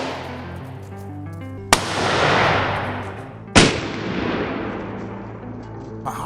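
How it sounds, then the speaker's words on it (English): Rifle shots on a wild boar hunt in Hungary, two sharp loud cracks about two seconds apart, each rolling off into a long fading echo, with a fainter pop at the end. "I got myself into a good position and made a great shot."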